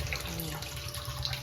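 Tap water runs steadily in a constant splashing hiss as mutton is washed for gongura mutton curry, close and moderately loud, with no talking.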